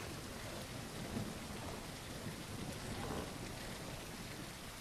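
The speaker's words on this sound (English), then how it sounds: "And I don't think I can see any footsteps because of the rain." In a dinosaur survival video game, rain falls constantly with low rumbles of thunder rolling beneath it, a full, even wash of storm noise with no talking.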